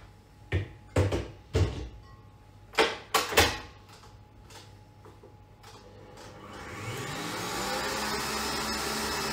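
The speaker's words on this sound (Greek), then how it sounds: "Και χτυπάω μέχρι που να αφρατέψουν τα αυγά μου μαζί με τη ζάχαρη." An electric stand mixer whips eggs with sugar in a home kitchen. A few sharp knocks and clatters come first, then the motor starts, rises in pitch and settles into a steady, loud whirring drone.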